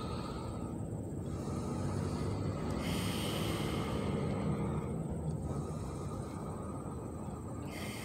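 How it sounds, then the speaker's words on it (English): Slow, deep breaths in and out during a yoga practice, airy and soft with close rushing inhales and exhales over a quiet room, with no talk. "Deep breaths in and out."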